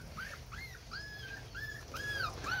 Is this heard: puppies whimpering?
yes